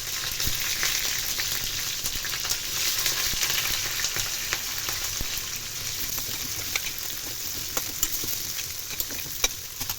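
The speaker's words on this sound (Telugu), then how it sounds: "సన్నగా తరిగి పెట్టుకున్న ఉల్లిపాయ ముక్కలు వేసుకుంటున్నాను." Thinly sliced onions fry in hot oil over tempering spices for a curry, giving a dense, continuous close sizzle with occasional stirring clicks and scrapes from a utensil in the pan, and no one talking.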